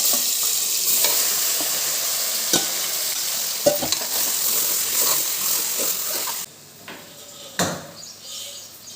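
Goat head meat with ginger garlic paste sizzling loudly in a hot pan, steady frying hiss broken by spatula scrapes and clanks as it is stirred, the sizzle dropping sharply near the end.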